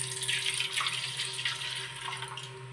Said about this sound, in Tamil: இது மிக்சிங்க்காக நம்ம காய்ச்சி வச்சுருக்க லைட்டாக சூடாக இருக்க பாலை வந்து ஆட் பண்ணிக்கலாம்